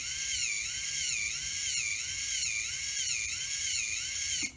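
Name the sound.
RC crawler drivetrain noise from CVD axles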